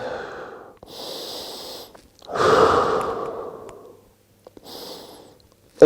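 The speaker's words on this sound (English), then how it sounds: "Deep breathing again." Slow, deep breaths during a home decompression stretch for a herniated disc: long airy inhales and exhales, with a loud rushing breath in the middle, pauses between them, and a sharp sound at the very end.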